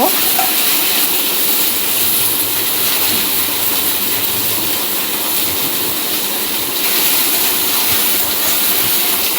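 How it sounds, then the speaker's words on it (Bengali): Pumpkin and Malabar spinach stems being stirred and fried in a pan, giving a steady, close hiss of sizzling oil that continues without break throughout. "কুমড়ো আর পুঁইয়ের ডাঁটা দিয়ে দিয়েছি, দিয়ে একটু নাড়াচাড়া করে নিচ্ছি, ভাজা ভাজা মতো করব।"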